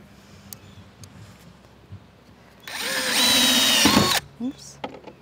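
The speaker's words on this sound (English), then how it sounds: "Pre-drill your holes again." A power drill whirs loudly for about a second and a half, pre-drilling into the wood of a wood duck box with a rising whine, surrounded by quiet room noise and small clicks.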